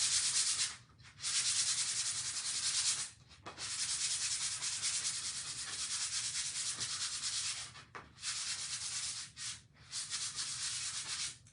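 A pumpkin is sanded in long, continuous, rasping strokes, close and fairly loud, with a few brief pauses between passes.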